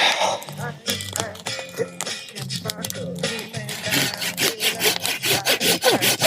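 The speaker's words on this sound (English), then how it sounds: "Now let's test out the ProCut saw. I want to make a baton out of this cherry." A ProCut hand saw cuts through a piece of cherry wood, close and steady, its rhythmic back-and-forth strokes quickening and growing louder toward the end.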